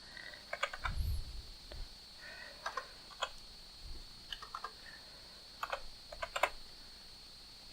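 Typing on a computer keyboard, with irregular bursts of crisp close key clicks and short pauses between clusters, a faint steady electronic whine running beneath and no voices.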